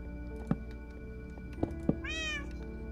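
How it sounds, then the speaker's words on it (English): A cat in the Minecraft video game gives one clear meow near the end, after a few soft knocks from block placing, heard alone over quiet background music. "Meow."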